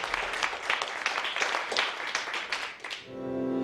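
An audience claps for a performer at a food bank Christmas concert in a Saskatoon venue, steady mid-level applause with a few sharper claps standing out, dying away near the end as a tone begins.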